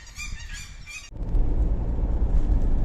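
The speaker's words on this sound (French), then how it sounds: "Et il y a des oies." A burst of loud goose honks up close, several overlapping calls, then abruptly cut off by a heavy, steady low rumble.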